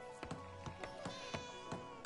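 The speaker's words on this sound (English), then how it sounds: "I hear a cat, hold on. There's the cat." A cat meows in the video game Where Winds Meet, faint under steady game music and a run of regular tapping footsteps.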